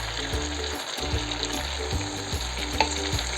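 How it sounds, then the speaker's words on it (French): Cooked rice, boiled in leftover meat broth, is gently stirred and fried with vegetables: a continuous close sizzle with scraping stir strokes and a steady background hum, and no speech. "on mélange délicatement le riz avec nos légumes"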